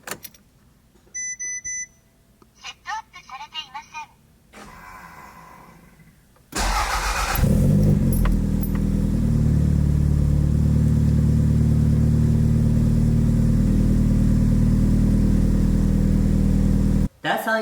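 A car with its dashboard lights being checked: several electronic chimes and beeps, then a brief cranking and the engine catching into a loud, steady idle that runs close by for about ten seconds.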